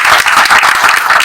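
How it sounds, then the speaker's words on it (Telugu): Applause from an audience at a public gathering, dense steady clapping filling the whole stretch, loud and close with a faint murmur of crowd beneath. "మనందరం కూడా మరి చప్పట్లు కొట్టి వారిని ఒకసారి అప్రిషియేట్ చేస్తున్నాం"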